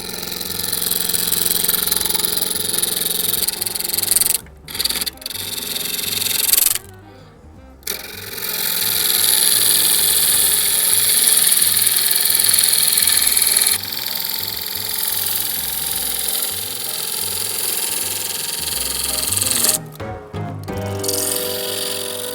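A wood lathe spins a dry, off-center maple bowl blank: a loud, steady motor drone and whirring hum that cuts out briefly a few times, then resumes, alone without talk.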